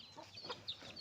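Country chickens on a Tamil village farm cluck softly, a few short, scattered clucks and chirps at moderate distance, low in level with no voices heard.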